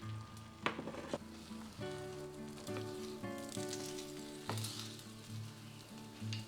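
Egg mixture for a Japanese egg roll sizzles quietly in a pan, a soft steady crackle heard under gentle tonal background music, with a few sharp clicks of utensils.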